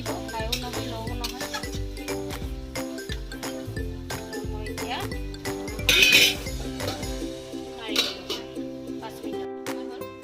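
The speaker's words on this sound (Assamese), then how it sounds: "দিয়াৰ পিছত আমি ভালদৰে লৰাই দিম।" A spoon scrapes and clinks against a pot while Assamese mutton curry is stirred over a medium gas flame, with scattered metallic taps throughout and one louder clatter midway, over sustained tonal background sound.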